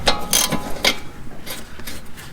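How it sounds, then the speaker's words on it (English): Sharp metallic ratcheting clicks come in short bursts as an 18 mm ratchet wrench loosens an upper control arm bolt on a Lexus GS, close and crisp with gaps between strokes. "I'm able to get my 18 wrench on here."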